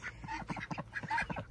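Farm ducks, newly let out to roam, quack in a rapid, steady run of overlapping calls, fairly close and moderately loud, with no voices over them.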